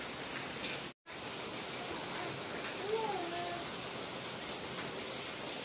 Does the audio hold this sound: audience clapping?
no